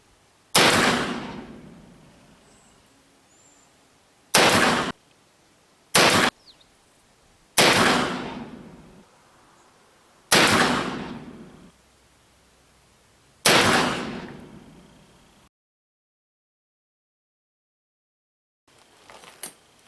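Ruger Old Army black-powder revolver fired outdoors: six loud, close shots at irregular intervals, each with a ringing decay, then silence and faint noise.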